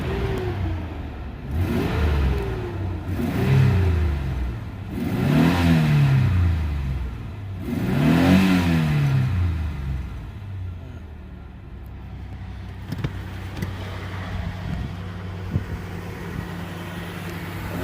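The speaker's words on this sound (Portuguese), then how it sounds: "vamos acionar o motor do carro aí, da Explorer aí" A Ford Explorer V6 with a Flowmaster exhaust revs hard four times in a row, each blip rising and falling loudly up close, then settles into a steady idle.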